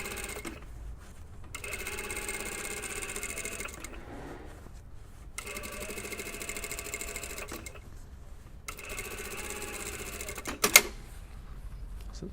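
A sewing machine runs a stitch around the sleeve head of a lined jacket in several bursts, a steady fast mechanical whir broken by short pauses, with a sharp click near the end.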